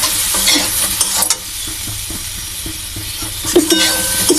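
Chili powder being stirred in a hot frying pan makes a loud, constant sizzle, with scraping strokes of the spoon scattered through it and a brief louder clatter near the end.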